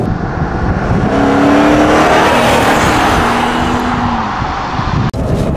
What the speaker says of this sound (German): Wenn ich jetzt richtig drauf drehe, dann geht der richtig nach vorne.